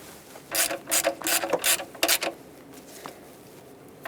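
Quick bursts of ratchet clicking, four or five short runs, from snugging an intake manifold mounting screw on a 1999-2016 Ford E-350 with a 5.4L V8, close and clear with no talking.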